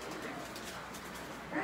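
Racing pigeons cooing close by during heavy rain, soft repeated coos over a steady wash of rainfall.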